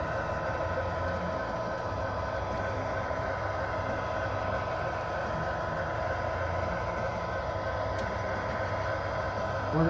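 A CSX model train runs steadily on a small loft layout, a continuous close rolling rumble and rattle of wheels on track that holds even for the whole stretch.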